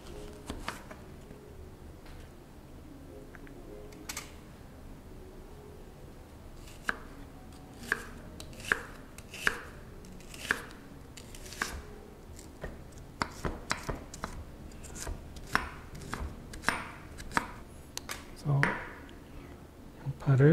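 Knife chopping onion on a board, leftover red and white onion being cut: a run of sharp, irregular cutting knocks that grows denser and louder toward the end, close by, with a little quiet speech in the background.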